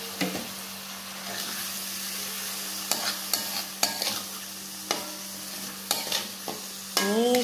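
Squid being stir-fried with pre-fried spice paste for sweet-and-sour chili squid: a steady sizzle under repeated sharp scrapes and clanks of a utensil stirring the pan, fairly close, with no talking.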